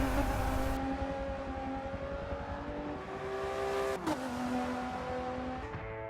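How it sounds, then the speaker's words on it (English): A Jaguar F-Pace and Jeep SUVs launch in a quarter-mile drag race in Forza Motorsport 7: engines roar loud and close, climbing in pitch through each gear and dropping at every shift before winding up again. "we took all 3 of the SUVs to the quarter mile to see which was quicker in a straight line"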